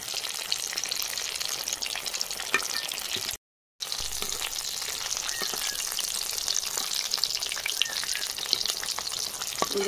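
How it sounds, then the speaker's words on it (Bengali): Stuffed ash gourd slices with prawns fry in a pan, giving a dense, continuous crackling sizzle with scattered spitting pops. The sizzle drops out for a brief moment partway through, then resumes just as loud. "দেখুন সবগুলো এইভাবে আমি ভেজে নেব।"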